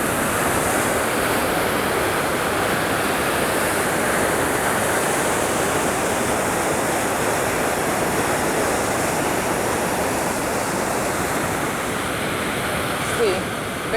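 River rapids rush where the Bear River Canal empties into the Halsey Forebay in California, a loud, dense, unbroken roar of churning water heard close up and steady throughout.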